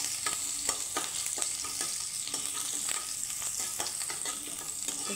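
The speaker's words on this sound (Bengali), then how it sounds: "তো সম্বারটা আমি ভালো করে ভেজে নেব" Bay leaf, two dried red chillies, panch phoron and chopped ginger sizzle steadily in hot oil, a continuous close crackle with repeated scraping stirs of a spoon cutting through.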